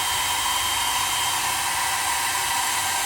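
Heat gun blowing hot air onto a car part before painting, a steady, loud, even whooshing hiss that runs without a break and with no voices.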